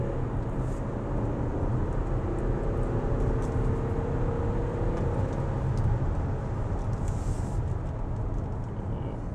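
A diesel car under full throttle, a steady loud engine roar with road and wind rumble that holds evenly throughout without a break.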